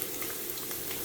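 Chopped ginger, garlic and green chilli fry in hot oil for a Kerala fish curry, giving a steady, even sizzle with faint stirring scrapes and no voices.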